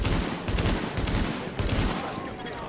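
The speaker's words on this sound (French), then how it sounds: "J'avoue que j'ai du mal à shoot à cause du recul de l'arme que j'ai là." Weapon fire in The Division video game comes in bursts of rapid shots from a gun with heavy recoil, with brief gaps between the volleys.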